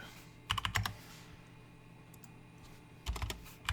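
Two short bursts of rapid computer keyboard typing, close and crisp, separated by a quiet pause, with no talking.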